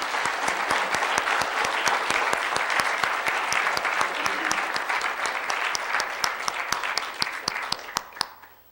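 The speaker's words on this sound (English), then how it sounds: "Let's give them a round of applause." Sustained audience applause at a Callaway County candidate forum, a steady wash of many hands clapping that holds loud for several seconds, then thins toward the end, with a few distinct claps standing out.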